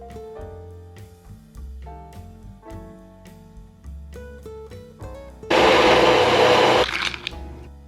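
A blender crushing ice for a keto smoothie roars in for about a second and a half, loud and grinding, over soft background music that carries on before and after.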